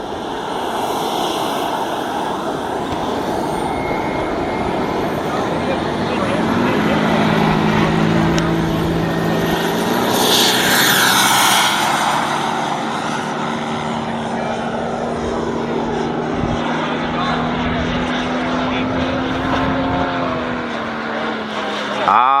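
A Boomerang Atom RC model jet flies past at the Joe Nall 2025 event, its turbine whine rising and falling in pitch as it passes over a constant outdoor rush, with people talking throughout.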